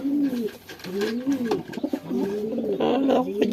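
Racing pigeons at a derby in San Narciso, Quezon give repeated throaty coos in a close, steady run, the rounded calls overlapping one another with no speech.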